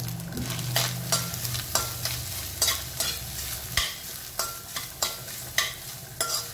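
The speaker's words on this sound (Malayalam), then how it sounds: "ഇനി നമ്മുടെ തേങ്ങ നന്നായിട്ട് വറുത്തെടുക്കണം. ഒരു ഗോൾഡൻ കളർ ആവുന്ന വരെ നമുക്ക് ഇളക്കി കൊടുക്കുക." Grated coconut and lentils are stirred and roasted in a pan, a spoon scraping in regular strokes over a soft, constant sizzle, with no one speaking.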